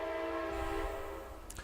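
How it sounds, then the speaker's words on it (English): A train passing close to a train station gives a sustained, loud horn-like tonal drone that fades slightly toward the end, with no speech. "I live right near a train station, so apologies about that. That's really loud."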